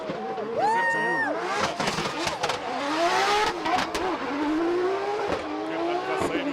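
A fully built 2JZ-engined car making 1200 horsepower revs hard at a drift event, the engine rising and falling in loud sweeps with tire noise and a crowd beneath, continuous throughout.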